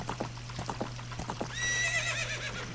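Epona the horse whinnies in The Legend of Zelda: Ocarina of Time, a rising then falling neigh after a run of clip-clop hoofbeats, clear and fairly near over a steady low hum.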